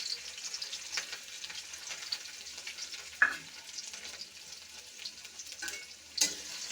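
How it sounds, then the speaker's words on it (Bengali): Chopped onion and garlic go into hot oil with whole black cumin, giving a soft, quiet sizzle with occasional sharp clinks of a spoon against the pan and no one speaking. "একটু ভেজে নিচ্ছি। দিয়ে দিচ্ছি পেঁয়াজ কুচি।"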